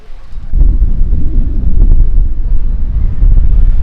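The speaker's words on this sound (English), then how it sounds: "it is a windy son of a buck here though" Strong wind buffets the microphone in a loud, continuous low rumble that gusts unevenly throughout.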